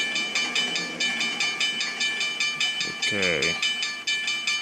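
In the Trainz simulation game, a train approaches a grade crossing while the crossing bells ring in a steady rapid rhythm throughout. A brief rising horn-like sweep sounds partway through, and a voice speaks briefly.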